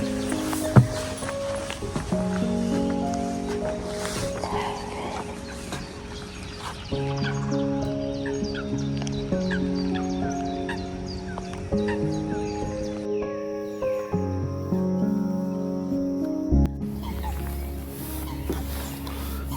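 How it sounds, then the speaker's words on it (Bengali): Birds calling near a quiet lake on a rainy day in Europe, scattered chirps and clucking calls near and far over a soft ambient background. "আই হোপ যে পাখির আওয়াজগুলো শোনা যাইতেছে।"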